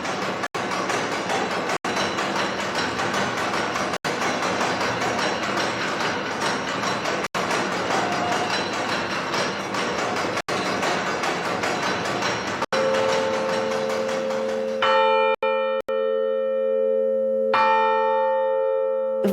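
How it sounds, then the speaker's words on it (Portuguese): Church carillon bells at Nossa Senhora dos Anjos in Fajã de Baixo are played from a keyboard, ringing loudly in a dense continuous wash of tones with sharp clappers. Near the end the texture thins to a few sustained, clearly pitched bell notes. "emocionante é ver o carrilhanista, é um nome engraçado, a operar o teclado que faz tocar estes badalos"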